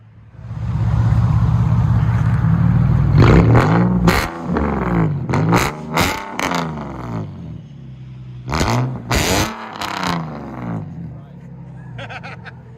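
A 2012 Infiniti G37xS 3.7L V6 with true dual straight-pipe exhaust idles with a deep rumble, then barks through several sharp revs in quick bursts, with voices chattering in the background.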